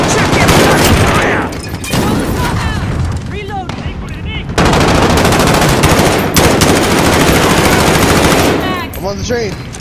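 Sustained video-game gunfire, loud bursts of machine-gun fire and rapid shots in long fusillades with a brief lull, overlaid with shouted voices and radio-style chatter.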